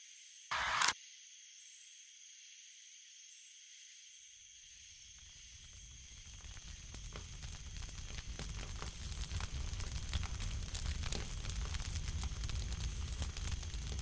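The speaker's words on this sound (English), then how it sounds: "I'll get a campfire going." A campfire is struck alight with a brief sharp burst, then after a near-silent pause a crackling fire builds into a steady hiss and pop of burning wood, growing louder over time.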